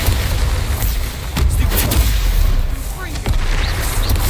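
A Bombardo spell blast in a Harry Potter video game, heavy booming explosive thuds over a loud rumbling din, with several impacts in quick succession.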